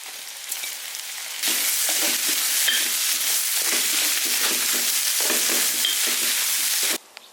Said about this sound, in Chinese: 肉炒出来，咱让这个干菜放进去